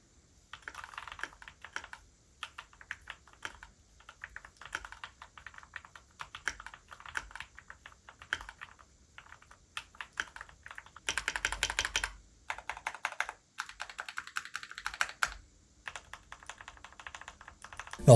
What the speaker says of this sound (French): Et maintenant, avec les switches lubrifiés,